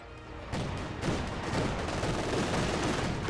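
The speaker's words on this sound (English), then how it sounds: "he's popping incendiary rounds on that MG now, trying to force the lieutenant out of the garrison" Machine gun fire with incendiary rounds in a WWII strategy video game: a dense, continuous crackling rattle of rapid shots starts abruptly after a brief quieter opening and holds steady and loud to the end.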